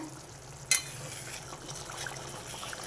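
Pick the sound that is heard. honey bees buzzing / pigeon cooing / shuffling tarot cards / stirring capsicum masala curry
stirring capsicum masala curry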